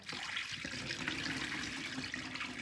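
Pottery glaze poured into a bucket through a sieve, a steady liquid pouring and trickling wash that runs continuously at moderate level with no talk.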